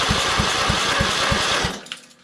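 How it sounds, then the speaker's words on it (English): A Kohler Command lawn tractor engine on a Craftsman LT2000 is cranked by its starter without catching, about six even rhythmic chugs close up, then the cranking stops and goes quiet. "Let's give it a crank and see if it starts."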